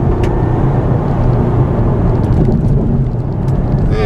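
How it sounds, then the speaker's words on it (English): Steady, loud road rumble inside a 2015 Mazda 3 Grand Touring or 2015 Kia Forte 5 Door turbo crossing railroad tracks on rough pavement, a dense low roar with faint bumps throughout and no talking. "the ride is fairly comfortable, but does generate some road noise on rough pavement"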